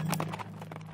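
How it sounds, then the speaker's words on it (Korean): Horses ridden by a group of men approaching through a forest, their hooves clip-clopping in a quick, steady rhythm close by, with a low hum underneath and no talk. "그런데 갑자기 그를 향해 말을 탄 남자들이 다가오는 게 아니겠어요?"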